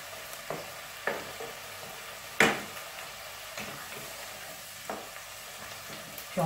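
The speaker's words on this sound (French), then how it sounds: "Je vais déglacer, au vin blanc" A one-pot dish of pasta with sausages and pesto simmers in its pot just after being deglazed with white wine. A steady low sizzle runs under a few sharp stirring clicks and scrapes, and nobody speaks.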